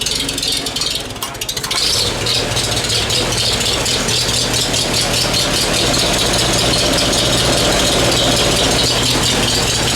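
An old Farmall tractor engine chugs loudly and steadily up close, with a rattling, knocking idle that keeps running throughout.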